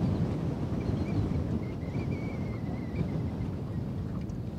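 Blustery wind gusts buffet the microphone outdoors while crappie fishing, with low, rumbling roar and fluctuating intensity, plus a faint whistling tone in the middle.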